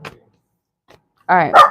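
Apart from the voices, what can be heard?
dog barking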